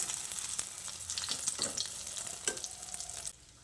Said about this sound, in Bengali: দেখুন বন্ধুরা, কিভাবে আমি ডিমটাকে ফোল্ড করে নিচ্ছি। আরও একটা চামচ এইভাবে ব্যবহার করে ডিমটাকে ফোল্ড করে নিতে হবে।